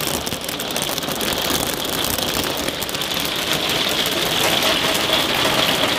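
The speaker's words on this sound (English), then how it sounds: "That's hail!" Hail hammers loudly on the roof of a Hymer motorhome, a dense, steady roar of rapid impacts that stays intense and unbroken throughout, with no voices.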